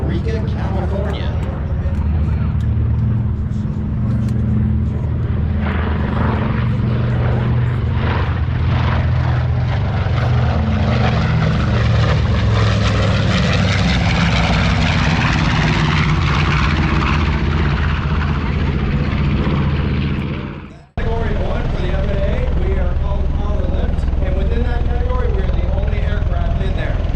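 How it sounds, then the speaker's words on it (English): A loud, steady rotor and engine roar from an Osprey tiltrotor aircraft passing close by, sustained throughout with a brief cut near the end before resuming. "Osprey has the ability to take off like a helicopter and fly en route like an airplane"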